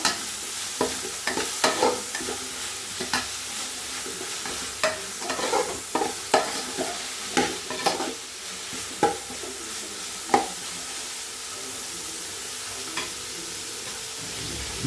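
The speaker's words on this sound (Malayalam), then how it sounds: "ഇളക്കി കൊടുക്കണം നന്നായിട്ട് ഇളക്കി കൊടുക്കുക" Tomato, shallots and garlic sizzle in oil for a chicken curry while a spoon stirs and scrapes the pan in repeated, fairly regular strokes, close by and with no talking.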